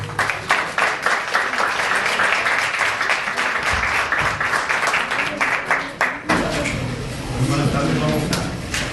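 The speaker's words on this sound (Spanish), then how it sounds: "Vamos a darles un fuerte aplauso." An audience at an educational research conference applauds the moderator: a run of sharp, fairly close hand claps that carries on through the clip, with voices heard alongside.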